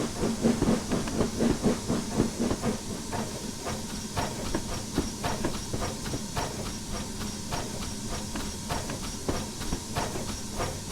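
Steam locomotive 75029 slows on the North Yorkshire Moors Railway in Train Simulator, giving rhythmic chuffs and steam hiss that soften and spread apart as it decelerates, with wheel clatter close by and no talking.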